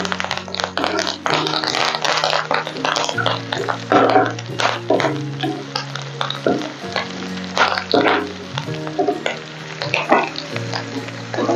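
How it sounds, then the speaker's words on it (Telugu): Green chillies and curry leaves sizzle and fry in hot oil in a pan for a bendy (okra) fry, a steady crackling hiss with stirring, loud and close throughout, with no talk over it. "సన్నగా కట్ చేసి పెట్టుకున్న ఒక 2 పచ్చిమిర్చి కూడా ఇందులో వేసి కరివేపాకు అండి, కరివేపాకు కూడా ఇందులో వేసి ఒక్కసారి కలుపుకొని"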